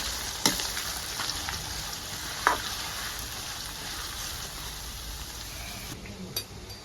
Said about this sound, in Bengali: পেঁয়াজ দিয়ে লাল লাল করে পেঁয়াজ ভেজে নিতে হবে।